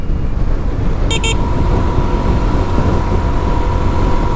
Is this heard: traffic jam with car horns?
yes